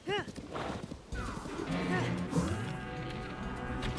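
A horse in the Zelda Tears of the Kingdom video game whinnies and clip-clops, game sound effects and music close and full, with someone talking over it.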